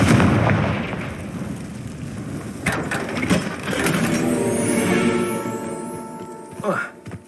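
A Confringo blasting spell goes off in the Hogwarts Legacy video game, giving a loud booming burst followed by a rumbling, crackling decay and a few sharp bangs.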